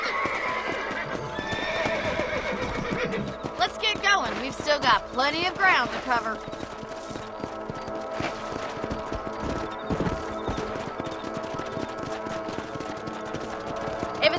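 Horse hooves clip-clop steadily in a Red Dead western game as riders travel over open ground, with a horse whinnying partway through and someone speaking over the hoofbeats.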